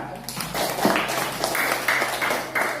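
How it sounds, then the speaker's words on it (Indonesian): A classroom of students claps for a classmate, with a quiet, scattered patter of hands that comes in uneven rhythmic bursts and includes a few sharper claps. "Tepuk tangan untuk Vivian."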